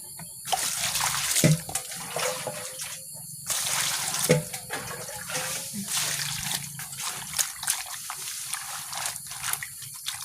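Water running and splashing as food is washed before cooking, a steady close gush with intermittent clatter and splashes, no talking over it.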